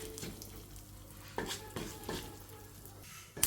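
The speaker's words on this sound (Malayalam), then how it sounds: "ഒരിത്തിരി കായപ്പൊടി ചേർത്ത് കൊടുക്കാം ഇനി ഇത് നല്ലപോലെ ഒന്ന് നമുക്കൊന്ന് ചെറുതായിട്ട് ഫ്രൈ ചെയ്തെടുക്കാം" Chilli powder and asafoetida fry in a pan for sambar and are stirred, giving a soft steady sizzle with several close scraping strokes of a utensil against the pan.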